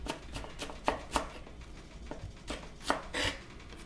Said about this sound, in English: So I'm gonna start with just a little bit of finely diced shallot.